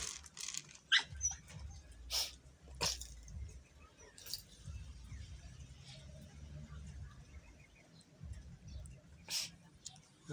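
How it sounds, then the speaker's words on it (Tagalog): A dog whimpers and gives a few short, high yelps, some near and some fainter, over a low rumbling background with a person talking quietly. "Si Cardo nag-iingay"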